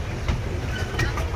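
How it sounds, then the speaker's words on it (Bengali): A toy train runs through an amusement park, giving a continuous rumbling roll with faint rhythmic clatter, heard close and steady for a brief moment. "এই টয় ট্রেন চড়ে রোপওয়ে যাই।"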